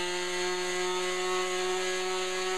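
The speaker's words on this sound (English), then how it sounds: "I've got my palm sander here now, so I'm just really gonna just round over this end now." A palm sander rounding over the end of a turned wooden magic wand, giving a steady electric hum with strong tonal buzz and a fine abrasive hiss, continuous and close without speech.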